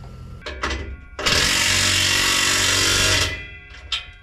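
A power tool whirs steadily for about two seconds while tightening exhaust clamps onto newly fitted Cherry Bomb mufflers, with shorter bursts before and after, close and loud.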